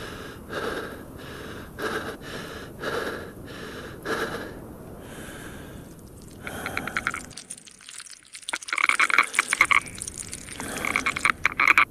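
Toad croaking in the horror game Dread Flats, a run of rhythmic raspy croaks repeating near and loud in the first half, followed by clicking, ratcheting game noises.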